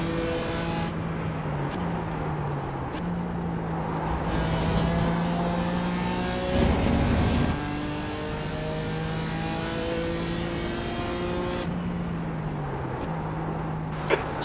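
Race car engine at Road America during a two-hour IMSA Michelin Pilot Challenge race, droning loud and steady from onboard with repeated rising and falling revs through gear changes, no voices.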